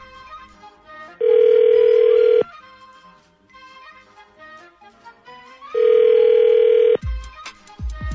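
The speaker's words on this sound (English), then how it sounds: "So this will be Amy's phone number." A telephone rings twice in long steady tones on an outgoing prank call for a morning radio show, separated by pauses, with faint clicks and line noise around them.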